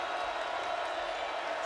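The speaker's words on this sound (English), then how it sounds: "Here comes the crowd again." A sold-out basketball arena crowd roars steadily at Virginia Tech's home game against Duke, a dense, continuous wash of cheering with a commentator's voice faintly over it.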